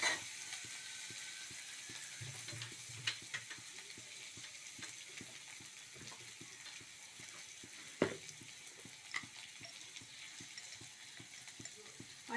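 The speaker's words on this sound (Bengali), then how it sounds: "মাঝে মাঝে একটু খুন্তি দিয়ে একটু নাড়াচাড়া করে নেব" Bottle gourd peel cooking in a pan, a faint continuous sizzle with soft, irregular clicks and scrapes from a metal spatula stirring now and then.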